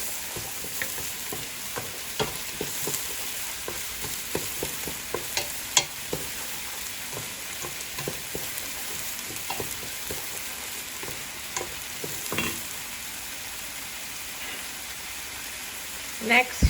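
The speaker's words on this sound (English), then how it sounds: "And stir it a little more" Lubia polo with green chilies frying in a pan, stirred now and then, giving a steady soft sizzle broken by scattered scrapes and clinks of the utensil, with faint talk in the background.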